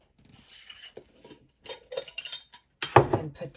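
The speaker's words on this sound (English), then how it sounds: "Give it a stir." A spoon stirs thick, porridge-like sourdough starter in a container, giving sparse, quiet scrapes and light clinks in short bursts with silent gaps between them.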